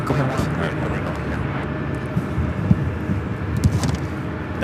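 Delta Connection Embraer E175 jet taking off at LAX, a distant broad engine rumble rising under voices talking throughout.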